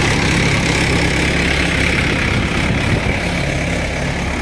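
A Mahindra 585 DI tractor idles at a farm field trench site, a steady loud low engine rumble running throughout with no talk.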